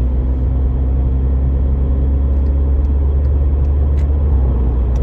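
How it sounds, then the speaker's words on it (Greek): A VW Scirocco with a broken engine pulling away, giving a steady, loud, close low engine rumble throughout. "Φεύγει το αυτοκίνητο να πάει κάτω."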